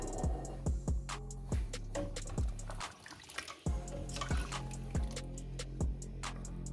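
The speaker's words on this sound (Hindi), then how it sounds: "अब मैंने इसके अंदर पानी को ऐड कर दिया है।" Liquid poured into a pot of cooking mutton masala gravy, heard up close as a steady run of wet drips and small splashes, with a brief quieter gap partway through; no talking.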